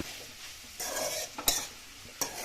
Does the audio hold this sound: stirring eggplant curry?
yes